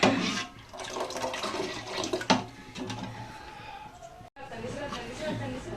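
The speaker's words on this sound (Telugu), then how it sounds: "వాటర్ ఎక్కువ వేసుకున్నాను ఎందుకంటే ఇది దగ్గరికి అయిపోద్ది ఎండింగ్కి" Water pours and splashes into a cooking pot in a village kitchen, a continuous close, uneven gush with a brief break, while someone talks over it.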